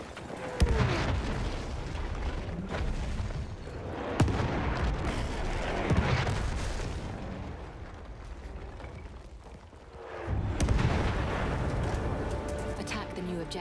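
An enemy artillery barrage rolls in during a Battlefield 1 battle, with repeated sharp shell impacts and booms every couple of seconds over a constant roar of combat, and voices heard underneath.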